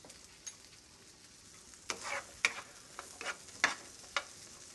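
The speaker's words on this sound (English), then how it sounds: "you want to cook the beans until they're nice and hot. Give them a stir just occasionally." Red beans heating in a pot, a faint low simmer punctuated by several brief spoon scrapes and taps against the pot as they're stirred, quiet and close.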